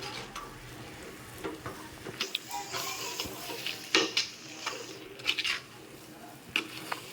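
Rice flour kichadi is stirred in a pot, with soft scraping and clinks of a spoon against the vessel at an irregular pace over a faint sizzle, quiet and close, with no talking.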